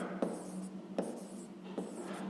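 A pen or pencil writes by hand on paper during a sixth-grade maths exercise, making soft, close scratching strokes with three brief taps, heard alone and quietly.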